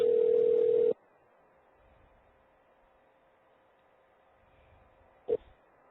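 Telephone ringing on an outgoing call: one steady, fairly loud tone lasts under a second and cuts off. Near silence follows, broken by a single short click toward the end.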